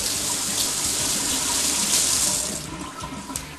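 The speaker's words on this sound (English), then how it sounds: "we are going to take 2 lemons and we are going to wash them" Two lemons being washed under a running kitchen tap, a loud steady stream of water splashing into a sink that eases slightly toward the end, no talking.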